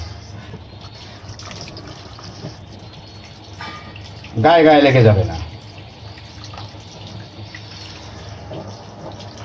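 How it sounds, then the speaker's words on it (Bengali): Cold water pours from a tap over soaked sabudana in a strainer, a brief loud gush splashing for about a second amid quiet kitchen ambience, with someone speaking softly. "আমি উপর থেকে ঠান্ডা পানি দিয়ে এটাকে"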